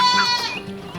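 A goat bleats loudly and continuously beside a large elm tree on a farm, its wavering, harmonic cry held close and strong for the full second.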